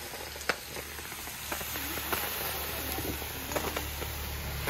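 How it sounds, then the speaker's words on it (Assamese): Snails fry in a wok with a continuous close sizzle and crackle, broken by occasional sharp pops and light stirring scrapes, with no voices. "যিমান ভাজিম সিমান পানী ওলাই থাকিব ইয়াৰ পৰা"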